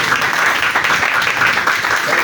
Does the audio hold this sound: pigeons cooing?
no